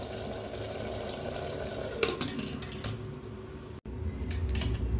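Mutton curry stirred in a pressure cooker pot; a spoon clanks and scrapes against the metal for a couple of seconds over a steady simmering hiss, close by with no talking.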